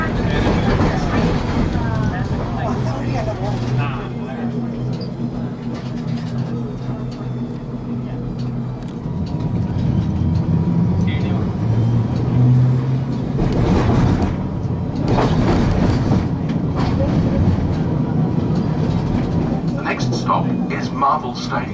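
Melbourne City Circle tram W8-981 rolls along on rails with a steady low rumble and rattle that swells midway, while a recorded announcement speaks over the running noise.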